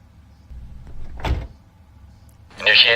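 Cabin door of a PMDG 777-200 airliner in Microsoft Flight Simulator 2020 closing, a single firm thud with a brief rattle, followed by a louder hiss-like whoosh near the end, heard in a quiet cockpit without talk.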